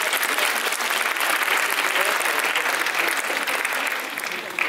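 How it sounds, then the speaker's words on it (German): Steady, dense applause from a crowd at a show jumping lesson event at CHIO Aachen, following a jumping round; the clapping is loud and continuous throughout, easing slightly near the end. "ja, auch nochmal einen kleinen Applaus."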